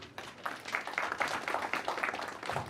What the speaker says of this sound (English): A clap for them.